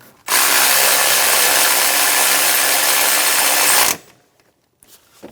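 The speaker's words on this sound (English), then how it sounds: "Get the bolt started and snug it down." A ratchet snugs down a bolt on the alternator bracket of a 2005-2015 Toyota Tacoma 2.7L I4, a loud, close, steady whirring burst lasting about three and a half seconds before cutting off.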